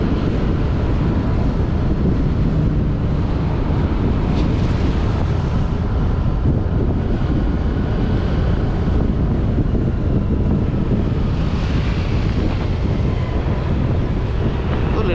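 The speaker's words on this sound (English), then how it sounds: "Very windy." Strong wind buffets the microphone in a constant, heavy rumble on Central Pattaya Road, Pattaya, with faint background traffic drifting through the gusts.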